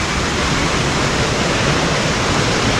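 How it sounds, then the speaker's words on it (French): A waterfall at Tokyo Disneyland pours in a steady, dense rushing roar, close and unbroken throughout. "La cascade."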